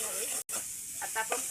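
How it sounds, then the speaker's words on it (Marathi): Water poured into hot oil with fried dry spices hisses and sizzles loudly, breaking off for an instant before the crackling bubbling resumes close by. "आता आपण पाणी घालून घेणार आहे"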